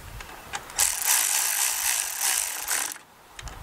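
Impact-style power tool driving engine bolts on a Briggs & Stratton 190cc 8.75 mower engine, run in short feathered bursts: a loud buzzing whir from about 0.8 to 3 seconds with a brief spurt near the end.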